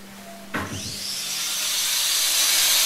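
A close power tool whines up and grinds steadily into a goat's horn after a sharp start, its high-pitched scream building in loudness.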